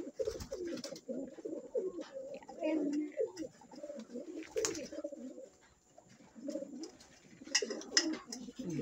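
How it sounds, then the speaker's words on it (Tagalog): Pigeons coo repeatedly close by at a night feeding in heavy rain, soft throaty bursts, several birds overlapping, with occasional faint rustles and a quiet voice. "ayan ang mga ibon natin"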